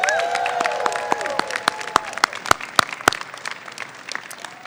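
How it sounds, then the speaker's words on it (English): An audience applauds for the governor at a Maryland Department of Agriculture press event; the clapping starts as a full wash and thins to scattered, sharp individual claps that fade out. "Can we give him a round of applause?"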